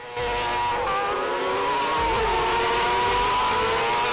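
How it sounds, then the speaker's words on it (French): Four-wheel-drive autocross buggies with 600cc motorcycle engines race past, their high engines whining loudly and continuously with rising and falling pitch as they accelerate and corner. "C'est des buggy 4 roues motrices, donc avec des moteurs de moto, 600 cm3 maximum."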